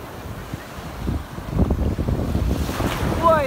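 Large waves break and surge on a wild, undeveloped Vietnamese beach, building from quiet wash into a loud, sustained rushing roar with strong wind buffeting the microphone.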